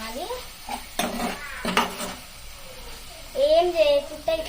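Amaranth leaves fry with chilli powder in a pan while a utensil clatters and scrapes against the metal in a few sharp bursts over a low sizzle; a voice speaks briefly at the start and again near the end.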